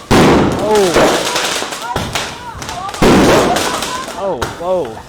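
Loud fireworks bursting in rapid clusters over Da Nang, Vietnam, with sharp booms and crackles recurring every second or so, while people nearby exclaim excitedly over the blasts.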